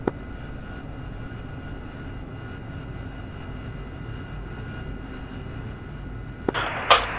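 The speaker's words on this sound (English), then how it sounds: "2 Spirit Bs lined up, 1, runway 13 right for immediate takeoff." B-2 Spirit bombers in the DCS flight simulator hold a steady, muted jet drone as they line up on the runway for takeoff. A sharp hissing surge breaks in near the end.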